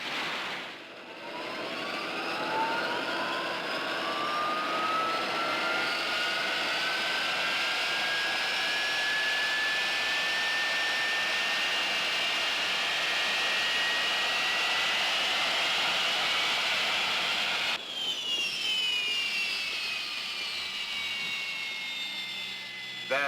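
An aircraft turbine engine spools up into a loud, rising whine that holds steady for a long stretch, then shifts abruptly near the end.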